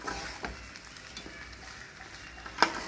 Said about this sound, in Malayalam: ഇനി നന്നായി ഒന്ന് ഇളക്കി കൊടുക്കാം നന്നായി മിക്സ് ചെയ്യാം